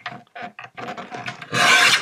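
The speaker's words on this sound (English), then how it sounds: "I'll go ahead and trim out the sentiment on the inside." A paper trimmer cuts a recycled greeting card. Short rasping strokes come in quick succession, then one longer, louder slide, close and alone.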